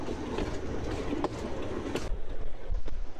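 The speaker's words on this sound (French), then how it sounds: "Embarquons dans le train à traction diesel qui relie Saint-Valery à la station balnéaire de Cayeux-sur-Mer" A diesel-traction train runs on the line from Saint-Valery to the seaside resort of Cayeux-sur-Mer, a continuous loud rolling rumble with rhythmic wheel clatter and occasional sharper metallic knocks.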